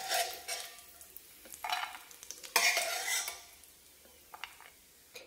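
Dry fruits roast in ghee in a pan for carrot gajrela. A spoon scrapes and stirs in irregular bursts over a faint underlying sizzle, close by and moderately quiet.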